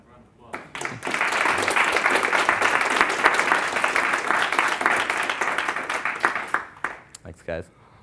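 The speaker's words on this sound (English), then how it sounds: "Give Robbie a round of applause." A small audience claps after a talk, the applause starting sharply, holding steady for several seconds, then thinning into scattered claps as a voice speaks at the end.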